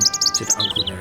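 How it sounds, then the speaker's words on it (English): A robin sings in autumn while berries are picked, its rich, creamy chirps and trills rising in quick bursts close by, with a voice briefly speaking partway through. "They heard the robin singing as they picked the berries."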